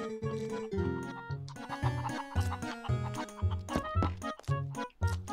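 Cucco chickens cluck in Zelda: Twilight Princess, a steady run of short, bright clucks that repeats over a bouncy musical backing, close and clear throughout.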